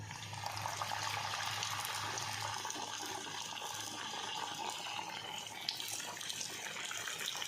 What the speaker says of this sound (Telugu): ఇవి కూడా మంచిగా వేయించుకుందాం.